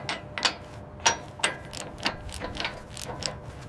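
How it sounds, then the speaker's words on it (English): Impact guns torquing thick bolts on a steel building frame, giving a string of about eight sharp ratcheting bursts at an irregular rhythm, each one brief and fairly close. "Impact guns torque the fasteners to immense pressure."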